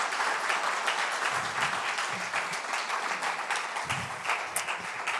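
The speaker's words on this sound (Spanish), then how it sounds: "denle el aplauso fuerte al Señor" Loud, sustained applause fills a church during a Spanish-language worship service, many hands clapping steadily throughout, with brief voices and murmurs from the congregation underneath.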